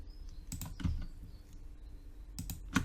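Computer keyboard and mouse in use while selecting table cells in Microsoft Word: a few sharp, quiet clicks in small clusters, close by, separated by soft background hiss.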